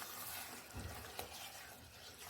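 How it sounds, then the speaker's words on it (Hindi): Tadka tempering for saag frying in a pan, a soft, low sizzle with faint stirring scrapes and a brief clink, heard close and quiet with no voices. "तो मैं तो अभी 3 से 4 लोगों के लिए तड़का बना रही हूँ खाने के लिए"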